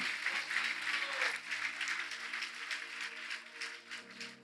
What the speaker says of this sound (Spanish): dale un aplauso grande al Señor